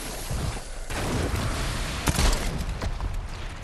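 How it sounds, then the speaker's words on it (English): Shotgun blasts and combat noise from the zombie game Dead Island 2, a dense, loud, continuous wash of gunfire and booms with one sharper burst near the middle. "I'm like using all my shotgun ammo."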